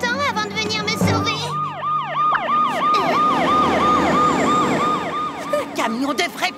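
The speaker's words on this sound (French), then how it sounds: "Un camion de vrais pompiers, toute sirène dehors." Cartoon fire truck siren wailing loudly in repeated rising and falling sweeps, close and sustained for several seconds with a brief burst of other noise near the end.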